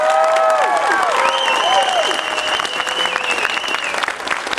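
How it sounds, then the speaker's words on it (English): A convention audience at a horror film Q&A applauds the cast of House of 1000 Corpses with dense, loud clapping, with cheers and high whistles rising over it, sustained throughout. "would you please give a big round of applause for House of 1000 Corpses"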